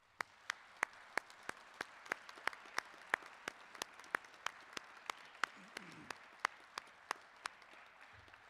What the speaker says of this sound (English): Join me in applause, please.